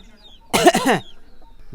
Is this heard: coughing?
yes